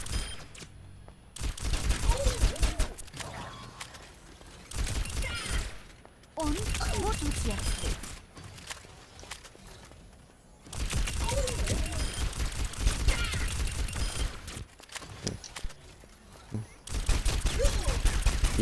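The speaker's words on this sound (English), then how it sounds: "her little pistol here is a 20-round full auto pistol" Rapid bursts of full-auto fire from a 20-round pistol in the video game Overwatch, several loud sustained volleys separated by short gaps, with someone talking over the gunfire.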